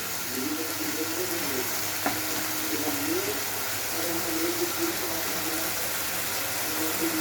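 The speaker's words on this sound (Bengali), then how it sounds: "চিংড়ি বাটা ফ্রাই করতে আমার এই চিংড়ি মাছটাকে কিছুটা ভেজে নিতে হবে" Prawns frying in a pan for a prawn-paste fry, giving a moderate continuous sizzle with a faint, indistinct voice murmuring in the background and a single sharp tap partway through.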